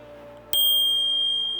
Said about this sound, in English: This bell feels premium and helps complete the look.